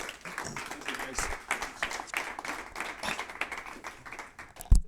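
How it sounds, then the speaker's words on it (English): A small audience applauds after a lunch-and-learn talk, moderate scattered clapping with uneven rhythm that rises and falls for a few seconds, close and fairly light, ending with a thump. "Let's give McKay a big round of applause"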